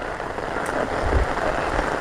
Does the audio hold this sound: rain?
yes